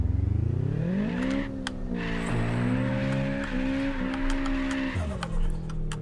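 A car in the racing video game Apex Point drives off in first gear, its engine whining and rising in pitch as it accelerates, easing off and revving again, with a brief tire squeal.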